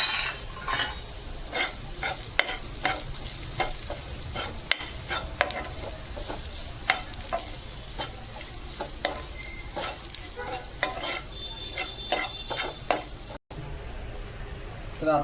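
Bitter gourd frying in a pan as peanut chutney is stirred in: repeated scraping stirs and clinks of a utensil over a steady, soft sizzle, close and fairly loud.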